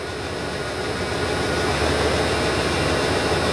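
An RV engine with carburetor problems runs steadily while warming up, a continuous low rumbling drone with a hissy wash on top, close and unbroken throughout.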